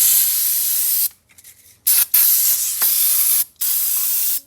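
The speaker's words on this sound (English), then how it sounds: "Got some carb clean. We can just kind of clean some of that junk off of there." Carburetor cleaner sprays in loud hissing bursts onto a Pontiac Fiero engine, with a long blast, a stuttering pause of short puffs, then more sustained spraying separated by brief gaps.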